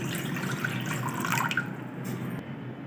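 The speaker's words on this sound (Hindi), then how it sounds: "1 गिलास पानी ऐड करेंगे बाउल में।" A glass of water is poured into a bowl while making fish fry batter, a short close splashing pour that runs about two seconds and then stops.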